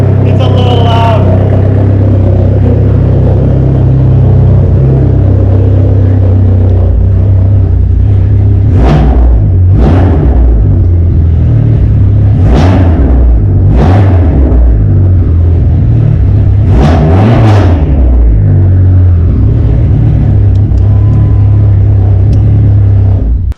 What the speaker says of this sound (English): So you can hear that the RPMs do hang a little bit, which means I have a vacuum leak.